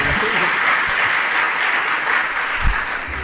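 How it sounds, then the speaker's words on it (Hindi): An audience at a spiritual question-and-answer gathering breaks into steady, loud applause, dense continuous clapping from many hands that lasts throughout. "एक बार ताली तो बजा दो।"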